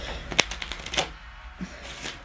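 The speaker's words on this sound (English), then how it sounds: "do some shuffles to mix it very well into the deck" A deck of playing cards is shuffled by hand during a card trick, giving quick papery riffles and sharp flicks in short bursts, close and fairly quiet.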